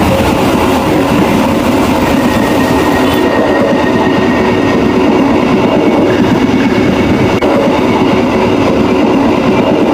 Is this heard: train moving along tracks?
yes